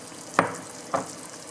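Cooked eggplant goes into hot oil for a Tamil brinjal curry, two short stirring scrapes over a quiet sizzle, close and fairly soft.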